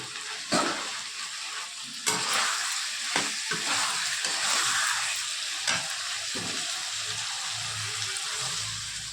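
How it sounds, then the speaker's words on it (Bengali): Cornflour slurry goes into a simmering chilli chicken gravy in a pan. A steady hissing sizzle runs throughout, with a few sharp knocks and scrapes from the spoon as it is stirred. "তাহলে কর্নফ্লাওয়ার জলটা আমি দিয়ে দিলাম"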